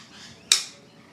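One sharp clap of a film clapperboard snapping shut for audio sync, a single crisp transient with a short decay in a quiet room.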